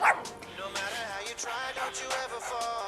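A dog barks and yips in a quick, excited burst of several sharp, close calls over about three seconds, with some whining tones mixed in.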